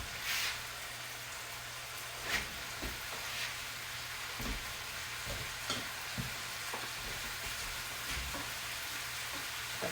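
Ground beef, 80-20, frying in a pan with a continuous close sizzle, occasional spatula scrapes and stirring knocks breaking through at irregular intervals.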